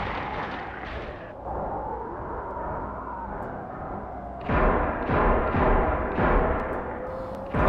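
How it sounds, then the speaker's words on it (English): Gunfire in The Walking Dead Telltale video game: a few muffled booming shots, dull and heavy, then a louder burst of several bangs toward the end over a low rumbling backdrop. "Gunshots."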